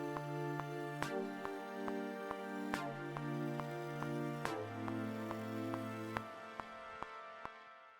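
A reversed reverb uplifter sound effect made in Logic Pro: sustained tones swell under a regular series of sharp, ringing pulses that step downward and fade out near the end.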